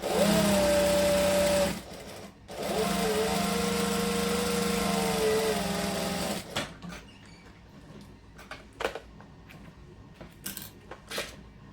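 A sewing machine topstitches an eighth of an inch from the edge of a shirt. Two steady runs of motor whir are split by a brief pause, then give way to scattered clicks and handling sounds.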